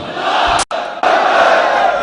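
A large crowd at a religious gathering roars the Nara-e-Takbeer slogan in unison, loud and sustained, broken by a brief gap before the massed voices surge back.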